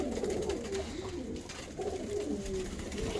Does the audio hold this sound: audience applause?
no